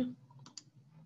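Mouse clicks during a Mastercam V9 CAD drafting session: two quick, faint clicks close together over quiet room hum.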